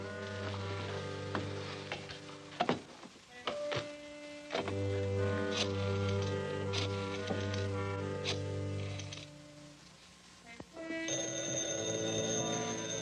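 Repeated bursts of a telephone bell ringing as a radio serial sound effect, a series of loud rings with short pauses, then a brief break before the ringing resumes.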